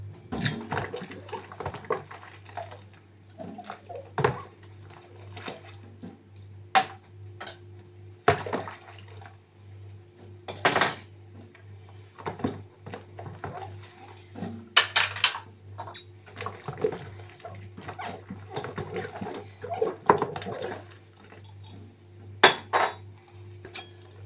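Dishes left from a meal are gathered and put away, with intermittent clinks and clatter of plates, pots and cutlery close by, plus splashes of running water, spread over a long stretch without talk.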